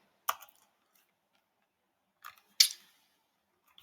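A computer mouse clicked a few times, sharp isolated clicks close by, separated by silence.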